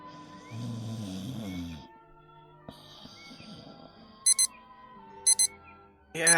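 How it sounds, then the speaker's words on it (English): A snooze alarm clock in a bedroom gives short bursts of high electronic beeping, two pairs spaced about a second apart and then a longer burst, following a stretch of music and quiet room sounds, with no talking. "That was the snooze alarm."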